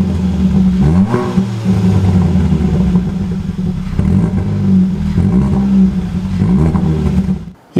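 A 2019 Hyundai i30 N Performance Fastback engine revs loudly and up close, rising and falling in several repeated bursts with a throaty rumble, then cutting off sharply at the end.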